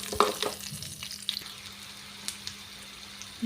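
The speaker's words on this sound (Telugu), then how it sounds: "వెల్లుల్లిపాయలు బాగా దోరగా వేయించుకున్నానండి." Garlic frying in hot oil for a tempering gives a quiet, sparse crackle of small pops and spits, busiest at the start, then thinning to occasional sizzles.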